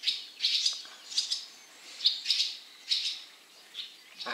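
Wagtail calling outdoors, a series of sharp high chirps in short clusters, repeated every second or so at moderate distance over quiet background.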